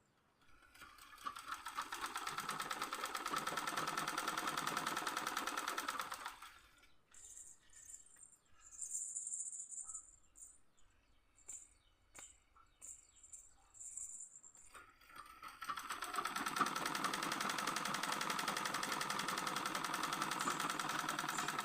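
A sewing machine stitches fabric for Hmong pants, running in two long, close, steady whirring bursts with a quieter stretch of scattered clicks and handling noise between them.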